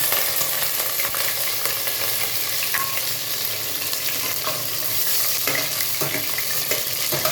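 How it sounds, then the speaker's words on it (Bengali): Garlic and dried chili sizzle steadily in hot oil in a pan, a continuous close frying hiss with occasional stirring clinks and scrapes and no talk. "রসুন আর লঙ্কাটা একটু সাঁতে করব আমি, মানে হালকা ভাজবো।"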